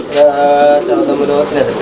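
A pair of black Lahori pigeons coos in low, rolling phrases, close by and fairly loud, with a faint voice now and then in the background.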